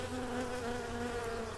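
Bees buzz in a home garden in June, a continuous close droning hum with steady pitch and no voices.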